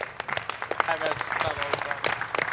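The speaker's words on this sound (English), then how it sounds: "let's give him a big round of applause, please." An audience gives a round of applause for a former world champion boxer at a boxing event, with dense clapping under a speaking voice.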